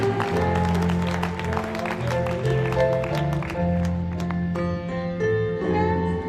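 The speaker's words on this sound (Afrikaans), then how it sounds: "kom ons gee die Here 'n hande klap" A congregation in a church claps their hands during an evening service, the clapping heard under sustained organ or keyboard music, with voices mixed in.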